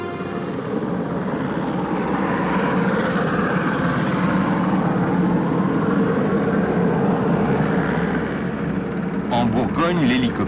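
A helicopter roars steadily overhead a Burgundy vineyard, drying grapes after rain, a loud continuous rotor and engine drone that briefly surges louder near the end.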